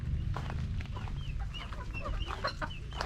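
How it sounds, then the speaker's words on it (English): Backyard chickens, including Kelsey Lacey Roundhead gamefowl, cluck and chirp near a garden pen, with scattered short calls over a steady low rumble. "Get over here and feed our chickens"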